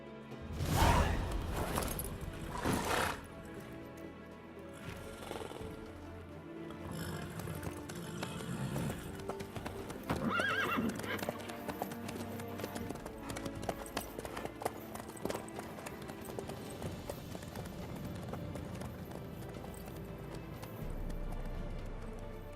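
Horse hooves clip-clop steadily at a gallop in The Witcher 3, a continuous rhythmic drumming with occasional whooshes and bursts of movement, fairly close, running unbroken without speech.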